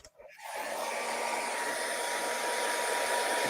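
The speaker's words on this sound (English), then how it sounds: "I got a blow dryer to speed up my process." A blow dryer switches on and runs steadily to dry ink, a loud continuous whooshing hum close by with no voices over it.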